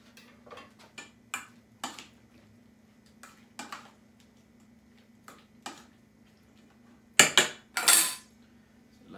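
A knife chopping aguachile ingredients on a cutting board, sparse crisp taps spread out, then a quick cluster of louder chops near the end, with a low steady hum beneath.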